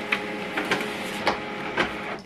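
An HP LaserJet Pro M148dw laser printer runs off a wireless network test report, a steady mechanical whir broken by several rhythmic clunks and paper-feed clicks, close and fairly loud with no talking.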